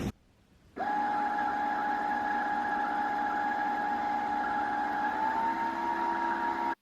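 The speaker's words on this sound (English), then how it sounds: "I just used that gold thread to do a zigzag stitch everywhere that I need stitch" A sewing machine runs a zigzag stitch in gold thread, one steady loud whirring drone lasting several seconds after a brief quiet start and stopping abruptly at the end, no talk.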